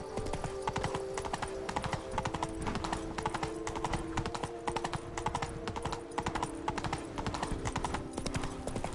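Hooves of the horse Roach in The Witcher 3 clatter in a fast, steady galloping rhythm, loud and close, running continuously with no speech over them.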